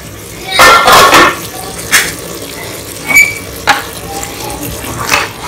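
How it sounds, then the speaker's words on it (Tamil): A metal spoon scrapes and clatters against a pot while cooked kuska biryani rice is stirred, giving several short close bursts of scraping and knocking over a quiet kitchen background. "சாப்பாடு உடையாமல் அடி பிடிக்காமல் கிளறி கிளறிட்டு"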